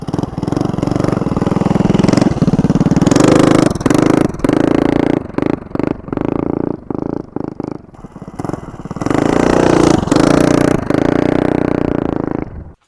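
A mini bike with a modified 212 engine runs loud and close, its throttle rising into a revving roar, dropping back to choppy idle, then revving hard again before cutting off.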